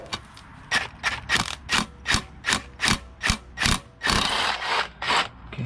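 Turbo bolts on a 2007-2020 Mercedes Sprinter 3.0L diesel being loosened, about a dozen evenly spaced sharp mechanical bursts like an impact or ratchet tool, close and loud, ending in a longer rattling burst.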